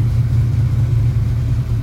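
A 1993 reef blue Ford Mustang fox body coupe idles while still cold, a loud, steady low engine rumble with a slight flutter, heard up close and alone.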